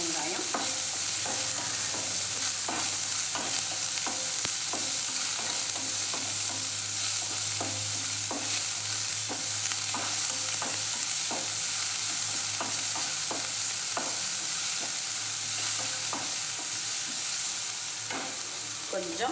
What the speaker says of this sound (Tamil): நம்ம சின்ன வெங்காயம் போட்டுருவோம். இது கொஞ்சம் வதங்கணுங்க சின்ன வெங்காயம்.